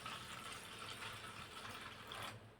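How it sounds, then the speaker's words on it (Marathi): Water pours into a large vessel of flattened rice (poha) being rinsed, a steady faint gushing stream that holds for a couple of seconds before cutting off, with no voices. "यामध्ये पाणी टाकायचं आहे"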